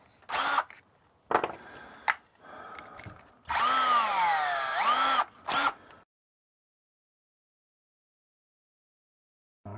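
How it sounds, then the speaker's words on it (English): A cordless power drill bores small holes in the plastic bottom of a balun enclosure, with several short bursts and one longer run as the motor pitch sweeps up and down, then silence. "I want to drill a little hole"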